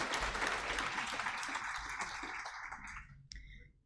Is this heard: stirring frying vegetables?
no